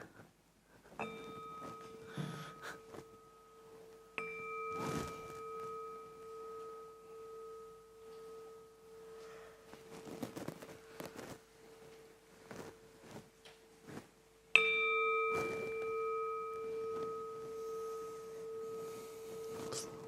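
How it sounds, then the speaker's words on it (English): A meditation gong is struck three times at a weekend meditation retreat, each stroke leaving a long, steady ringing tone with a slow wobble that sustains between strikes, set against quiet room noise and faint rustling. "The gong, it's got a wobble sound."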